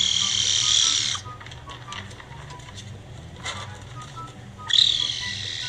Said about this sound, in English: Quick quiz, does the caracal sound like A, a normal cat, B, a cracked out Tweety, or C, frogs croaking?